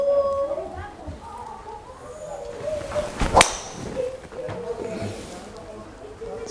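A Titleist driver's club face strikes a golf ball, giving a single sharp, loud crack about halfway through, with a voice talking before and after it.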